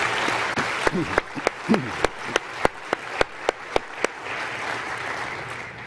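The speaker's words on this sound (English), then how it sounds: "please join me in a round of applause for our great Board of Directors" An audience at a corporate annual shareholders' meeting applauds the board of directors, a dense burst of clapping with sharp individual claps standing out, swelling then thinning out as it fades.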